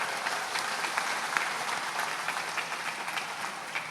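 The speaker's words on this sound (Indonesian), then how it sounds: "Tepuk tangan untuk mereka." Crowd applause during a religious lecture gathering, a dense, even patter of many hands clapping at once, sustained and fairly close for about four seconds.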